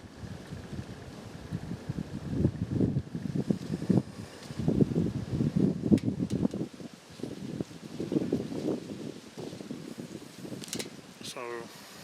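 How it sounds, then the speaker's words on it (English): Gusty wind moves through West Virginia woods during a bow hunt, rising and falling in several rushing surges with rustling, ending in a quieter lull. "But that wind is kind of whipped up. Get some high gusts from every now and then."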